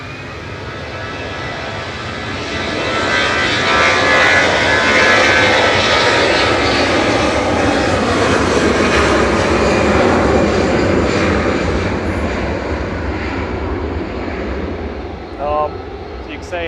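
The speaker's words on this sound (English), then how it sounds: "Flight 2197 departing to Munich there, GEZWI." A jet airliner departs Manchester Airport for Munich, its engine roar swelling to a loud, sustained rumble and then slowly easing off, with a brief chirp near the end.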